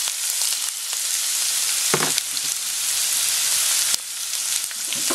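Onion sautéing in a pan for sauteed clam soup, a loud, bright continuous sizzle with a few brief stirring scrapes, close up and with no talking.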